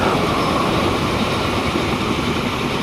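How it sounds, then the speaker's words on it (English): An electric cargo train in Transport Fever 2 gives off a dense, steady rolling roar and hiss. The sound holds loud and unchanging throughout, with no voices. "It's electric train"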